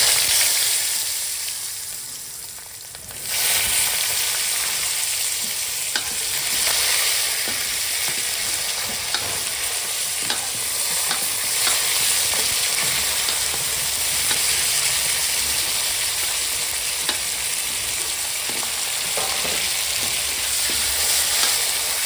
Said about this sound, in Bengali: দিয়ে দিচ্ছি আলুটা ভেজে নেওয়ার জন্য